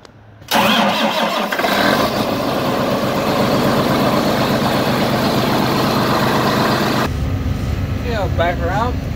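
A John Deere 8320 tractor engine cranks and fires up at about half a second, then settles into a loud, steady diesel idle close by; near the end a faint chirping sound rises over the running engine.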